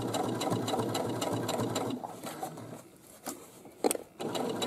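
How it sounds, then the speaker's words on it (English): A sewing machine stitches the boxed corners of a fabric bag, running in steady, fast bursts that stop for a moment and then start again. The whirring is close and loud, with no talking. "And then I'm just going to keep stitching on over here."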